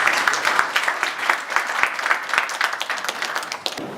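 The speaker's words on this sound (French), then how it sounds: "Cela mérite des applaudissements, s'il vous plaît." Audience applause at a Cameroon national day celebration, a dense, sustained crowd clapping with many overlapping claps, steady and fairly close throughout.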